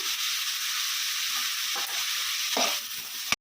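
Onions frying with salt in a pan for egg bhurji: a continuous, close, loud sizzle with a few soft spatula scrapes, ending in an abrupt sharp knock.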